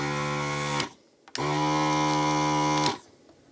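A ZD-915 desoldering station's vacuum suction pump runs as a loud, steady electric hum with rich buzzing overtones, switching off briefly, then running again for about a second and a half before cutting out.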